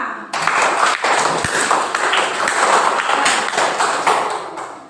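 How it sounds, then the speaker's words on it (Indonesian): Students in a classroom clap together as a group, a steady dense patter of many hands sustained for several seconds, with no talk over it. "Tepuk tangan untuk kalian semua."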